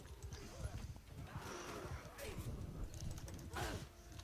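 A horse in the medieval battle game Mount and Blade II: Bannerlord, with clopping hooves and a whinny amid battle noise, partly under someone talking.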